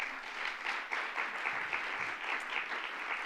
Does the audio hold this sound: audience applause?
yes